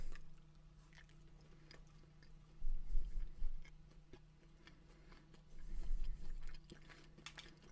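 An unfrosted brown sugar cinnamon Pop-Tart is chewed close to the mic, with soft crunchy bites and two louder bursts of chewing separated by quieter pauses.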